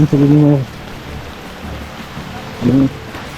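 Rain falls steadily on a muddy, slippery hill trekking trail near Alikadam, between Kirsteng and Khemchongpara, with a constant wash of noise and brief voices near the start and end.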